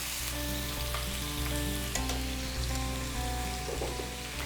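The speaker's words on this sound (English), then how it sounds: "I add it to the pan and the onions" Oil with a tuna flavour added to a pan of onions, frying with a steady crackling sizzle throughout, fairly quiet and close, over a faint low steady hum.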